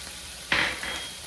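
Onions frying in a pan with oregano, paprika, salt and pepper: one sudden loud sizzle burst as the spices go in, fading to a gentle steady hiss.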